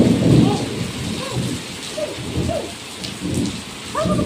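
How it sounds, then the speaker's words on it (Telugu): Rain falls steadily with repeated rumbles of thunder in a thunderstorm, the rain close and continuous while the thunder rolls in several low bursts. "పద వాన పడుతుంది."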